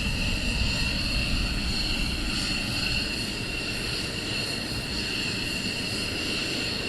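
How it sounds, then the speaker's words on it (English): F-15 fighter jets taxiing on the airfield at RAF Lakenheath during surge operations, a steady loud engine roar with whining high tones, holding constant throughout with no talk over it. "we do have two more F-15s taxiing towards us."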